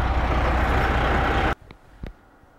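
A heavy truck engine idles loud and close with a steady diesel rumble, left running during an en-route inspection, then cuts off abruptly, leaving a few faint knocks.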